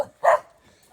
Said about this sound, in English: Typical Costa Rican house dogs.